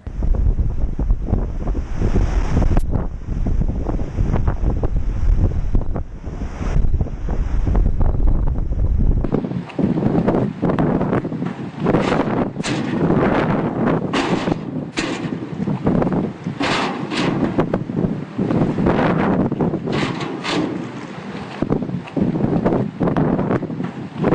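Strong wind buffets the microphone with heavy rumbling gusts while high surf and floodwater wash in at Onset Beach, a loud, continuous roar with sharp bursts of wind noise throughout.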